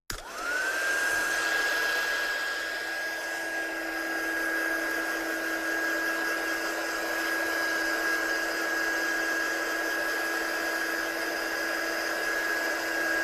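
A hair dryer runs continuously to dry a decal, a steady, loud whooshing blow with a sustained high whine that holds unchanged for over thirteen seconds.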